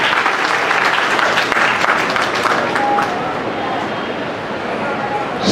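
Audience applause at an award ceremony held by a charitable trust for Class 10 and 12 students: dense, steady clapping from a large crowd that fills the whole stretch and eases slightly toward the end.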